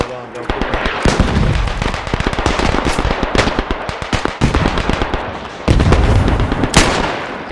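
Rapid, loud gunfire fills a trench-warfare battle in the video game Beyond The Wire, with dense bursts and sharp cracks over a constant din, and a louder blast near the end; a voice speaks amid the shooting.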